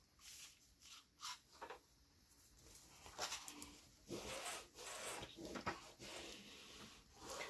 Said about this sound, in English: And then I'm just gonna burnish it down.